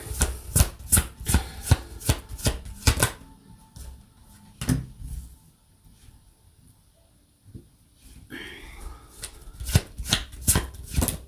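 Tarot cards are shuffled in quick, loud riffling bursts with sharp rhythmic slaps, pausing for several seconds of near quiet with faint handling before the rapid shuffling resumes.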